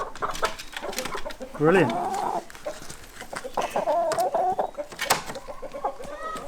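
Chickens cluck and squawk nearby on a farm in Portugal, in rising, fluttering calls among quieter clucks, while people talk softly in the background.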